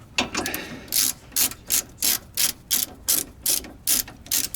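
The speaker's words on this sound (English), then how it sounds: "This is a pretty cool ratcheting ratchet. Just got to spin the handle." Rapid ratcheting clicks from a ratchet handle being spun while a rear shock is replaced on a 2012 Honda Civic, coming in about ten evenly spaced bursts of close, crisp metallic chatter with no talking.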